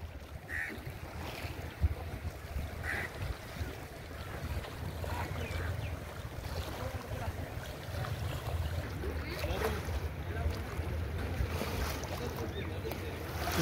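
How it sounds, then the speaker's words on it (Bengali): Waves from the swollen Padma River at Rajshahi wash steadily against the riverbank, a continuous soft rushing wash with wind noise, faint and close. "ঢেউগুলো এসে নদীর পাড়ে এসে পড়ছে।"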